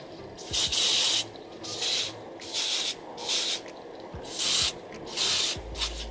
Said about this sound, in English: I'm going to spray our hairline really quickly.